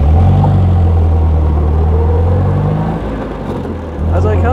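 A 1924 Bentley 3 Litre, the first production Bentley, runs with a steady, loud low rumble that dips briefly and then returns; a person talks over the engine.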